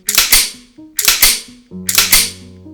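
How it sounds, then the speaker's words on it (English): Three loud gunshots ring out in a Christmas crime short film, spaced evenly about a second apart, each a sharp close crack with a short ringing tail. "It's a gun."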